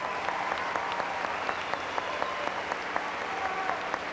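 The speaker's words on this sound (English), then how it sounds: "give them a big round of applause" Applause from the audience at a 1998 high school graduation ceremony, an even wash of many hands clapping at a moderate distance, sustained and unbroken throughout.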